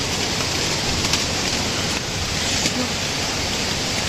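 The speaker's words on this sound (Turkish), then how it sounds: "Öyle bir dolu yağıyor ki" Hail pelts a balcony during a storm, a dense, continuous loud rattling hiss of icy pellets striking surfaces close by with no pauses.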